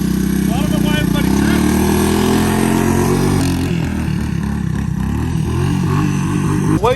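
A Honda ATC200S three-wheeler engine runs loudly and steadily at close range, its throttle rising and falling through the clip.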